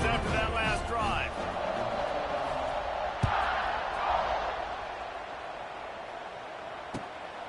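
Stadium crowd in the College Football 26 video game cheers steadily after a touchdown drive, a broad continuous roar at moderate level with a couple of sharp thuds, while a commentator talks over it.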